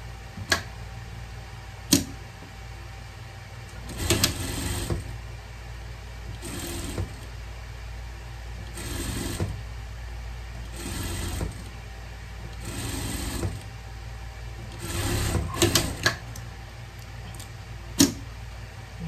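A sewing machine stitches the seams of a pet turtle costume in a series of short whirring runs separated by pauses, with a few sharp clicks between them, close and clear.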